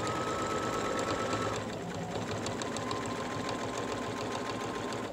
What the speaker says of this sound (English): and then I'm gonna sew down.